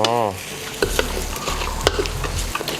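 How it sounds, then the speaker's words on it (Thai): Bamboo razor clams stir-fried in a wok with oyster sauce, fish sauce and soy sauce give off a loud, steady sizzle. Scraping stirs and clinks of the spatula against the pan recur every second or so. "เออคุณผัดไปเรื่อย"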